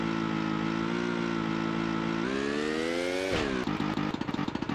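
The engine of a vehicle in the video game Tomb Raider 2 drones steadily at low speed, rising slightly in pitch as it revs, then breaks into a choppy, stuttering idle near the end, loud and close with no talking.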